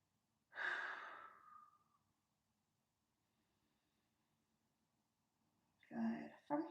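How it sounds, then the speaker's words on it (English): One deep, audible exhale during a plus-size holiday stretching routine, close and soft, fading over about a second, followed by a quiet pause and then another breathy sound. "Just take a couple moments here, breathing deeply."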